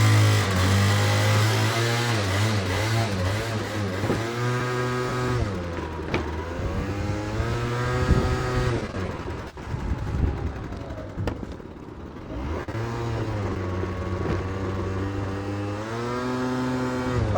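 A Yamaha Aerox 50cc scooter after a drive belt and variator service revs repeatedly, its small two-stroke engine whining up and falling back in close, loud sweeps with a brief dip mid-clip.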